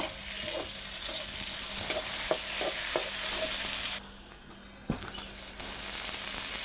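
Oil sizzles steadily in a pan of curry with garam masala while a spoon scrapes and stirs with occasional clinks; the frying drops briefly quieter partway through, then resumes.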